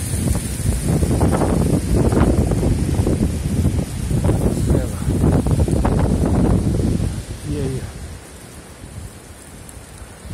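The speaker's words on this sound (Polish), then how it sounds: "Czy to jest wichura, czy to jest szkwał?" A strong, gusty gale blows outdoors beside a thuja behind a small wayside chapel, roaring in heavy buffeting rushes close to the microphone before easing to a lower, steadier blow.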